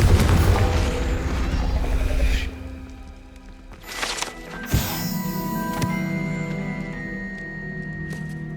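A Confringo blast spell in Hogwarts Legacy, booming at the start and then fading into a lower rumble, with a couple of sharp impacts and ringing magical tones afterward.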